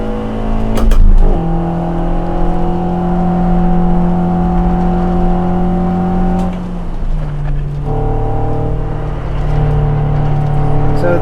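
Spec Miata race car engine in a VR racing game at Harris Hill, held loud and steady at high revs in 4th gear through a turn, with a brief shift-like dip partway and strong harmonic drone throughout, no talking.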